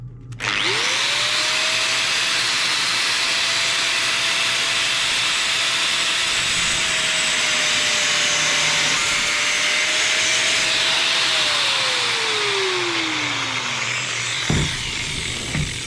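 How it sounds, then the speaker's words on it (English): An angle grinder grinds the corner off a metal indicator stem for an adventure bike, a steady loud whine held for about eleven seconds before it winds down as the disc spins to a stop. "And then I need to just grind that corner off a little bit."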